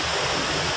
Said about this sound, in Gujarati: અહીંયા તો ધોધમાર પડતો છે